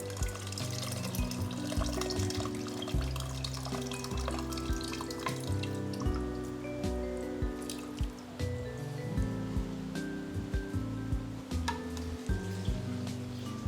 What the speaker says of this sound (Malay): kita tambah balik air, guna asam jawa je